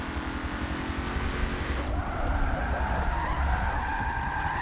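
Drift car tires squealing in Forza 7 racing game, a continuous loud engine roar with rising tire screech and skidding, no talk.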